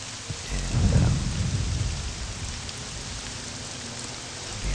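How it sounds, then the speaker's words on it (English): Steady rain with a rumble of thunder during a storm in the video game Morrowind, a deep roll swelling near the start over continuous hiss of falling rain. "I gotta get out of the rain."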